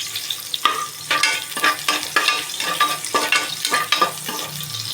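Onion pieces frying in hot oil as the tempering base for mutton sambar, a steady close sizzle broken by repeated stirring scrapes in an irregular rhythm, with no voices.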